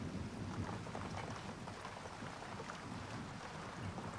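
Steady rain falls in the Great Karoo, a continuous soft hiss and patter with no distinct drops standing out, faint and even throughout.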